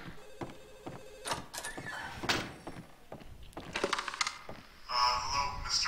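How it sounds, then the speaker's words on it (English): A telephone rings in the horror game Xerxeth: Underhell, a repeated bell-like trill mixed among thuds, knocks and clatter, fairly close and busy, with a louder ringing burst near the end. "Oh, phone's ringing."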